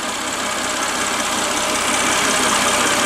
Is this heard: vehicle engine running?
yes